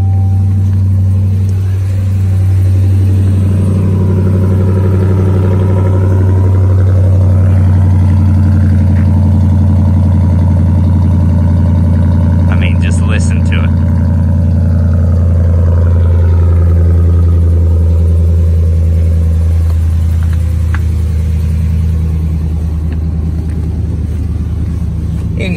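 A 2014 Ram 2500 Longhorn pickup's engine runs loud and close, a deep steady rumble that swells and eases through long revs with brief clicks midway, and no voices over it.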